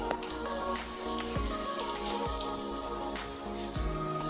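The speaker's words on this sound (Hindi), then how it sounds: "बाहर का वेदर बहुत ही मस्त हो रहा है, बारिश हो रही है यहाँ पे, ये देखो" Steady rain pours outdoors in a hilly forest area, a dense continuous patter of drops striking surfaces with occasional heavier splats, moderately loud and close with no voices.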